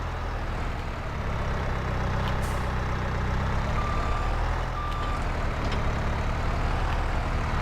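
A Manitou in Farming Simulator 22 hauling a heavy trailer loaded with lime: a low, steady engine drone throughout, with a couple of brief high beeps and faint air-hiss bursts over the rumble, no voices.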